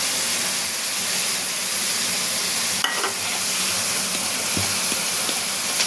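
Onion stalks frying in a pan give a steady, dense sizzle that holds at an even level throughout, with a few soft clicks and a brief stirring scrape partway in.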